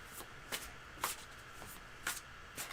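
Playing cards shuffled in several quick riffling bursts, close and fairly soft, with no talk.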